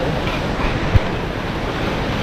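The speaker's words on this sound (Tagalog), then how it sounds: "Yan yung falls. Hindi lang namin mapuntahan, nakakatakot kasi doon, lakas ang agos." A strong current of water at a waterfall roars as a steady, dense rush with no pauses, loud and close throughout, with one faint brief knock partway through.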